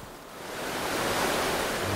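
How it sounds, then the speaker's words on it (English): Steady broadband roar of a gushing waterfall on a salmon river in a rainforest wilderness, dense and continuous with no breaks, swelling slightly louder after the first half second; no voices. "The gushing waterfall further upstream seems insurmountable."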